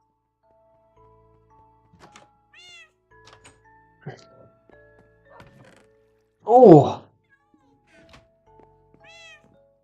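Cats meowing in the Minecraft Legacy Console Edition video game, a few soft meows followed by one loud, drawn-out meow, alongside sparse game tones and a brief spoken exclamation.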